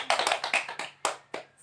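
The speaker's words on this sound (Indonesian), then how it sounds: "tepuk tangan untuk kita semua" A small group claps briefly, with a few scattered, uneven claps close by, no voices.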